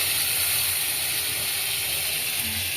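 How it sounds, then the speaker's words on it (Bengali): Potato pieces being fried in hot oil for a fish curry make a loud, steady hiss and crackle that carries on without a break, with no one speaking. "আর এই মাছের ঝাল করার জন্য আলুটাকে ভেজে নিচ্ছে"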